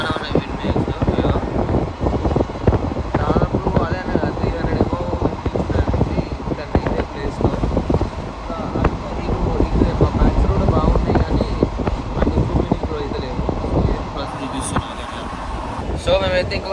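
Wind rushes loudly through an open sleeper-class train window on a Hyderabad to Dwarka journey, a steady close roar with rattling and rumbling that barely changes throughout.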